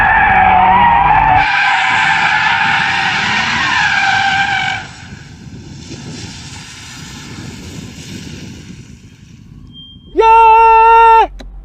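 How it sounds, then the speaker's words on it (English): An Audi RS3 drifts through a turn, its tires skidding and squealing in a loud sustained screech over engine roar that fades into a quieter rumble, followed by a brief sharp tonal whine near the end. "I'm trying to drift it carefully"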